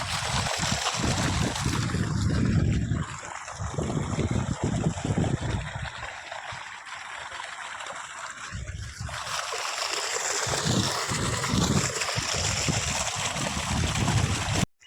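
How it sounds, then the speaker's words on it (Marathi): Irrigation water gushing from a broken pipe in a village field, a loud continuous rushing roar that swells and dips with buffeting wind on the microphone. "हे पाईप तुटलेला आहे, खालून पाणी येतं"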